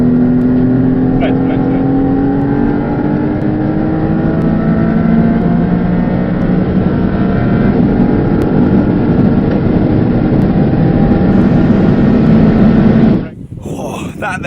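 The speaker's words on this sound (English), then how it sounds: "That then was my drive in the Maserati MC20 shod with Bridgestone Potenza Race tyres." A Maserati MC20 on Bridgestone Potenza race tyres runs hard around a race circuit, its engine a loud, continuous in-car drone with shifting pitch that cuts off abruptly near the end.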